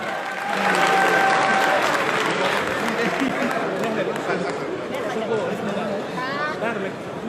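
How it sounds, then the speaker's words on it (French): Loud, sustained applause from a large crowd at a political rally in Paris, with cheering and chatter mixed in, steady for several seconds. "Un tonnerre d'applaudissements pour Nigemas."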